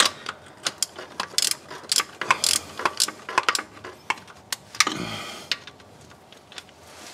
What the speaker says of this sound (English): Flex head ratchet helps a lot with this.